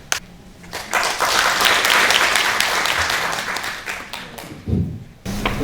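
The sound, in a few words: audience applause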